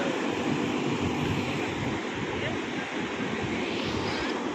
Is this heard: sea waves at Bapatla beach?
yes